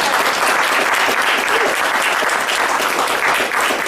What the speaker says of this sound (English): Can we please give just one more round of applause to Brother